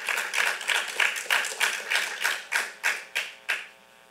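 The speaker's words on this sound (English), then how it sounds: "Can we give another round of applause for that amazing film?" A small audience at a film screening and talk applauds after a short film; the clapping starts as a rhythmic patter and dwindles into a few slower, isolated claps as it dies out.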